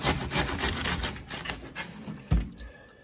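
A knife sawing through the tough top of an artichoke, a series of close, rough rasping strokes followed by a sharp thunk as the blade goes through, with no talking.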